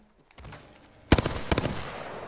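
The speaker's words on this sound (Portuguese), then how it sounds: "Eu posso continuar no slide e atirar nele, ó." Weapon fire in Apex Legends during a slide, a rapid burst of close, loud gunshots after a soft sliding rustle, alone.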